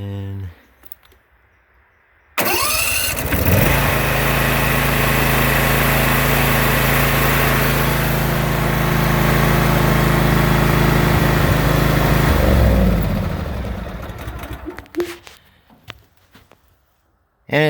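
Replacement Briggs & Stratton small engine on a lawn tractor starts abruptly after a few seconds, then runs loud and steady for about ten seconds before winding down and stopping, with faint talk before and after.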